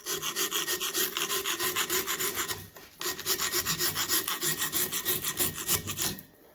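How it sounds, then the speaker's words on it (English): A steel scraper rasps rust and old gasket off a metal surface in quick, rhythmic strokes, close and loud, with a brief pause before the scraping resumes at the same pace. "it takes off rust real easy"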